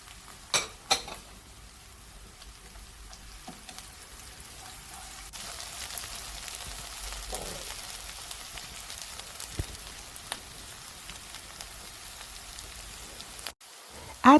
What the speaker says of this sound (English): Then stir fry for 2-3 minutes.